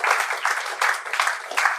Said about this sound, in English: Please, just for the sake of it, another round of applause, because I learned so much.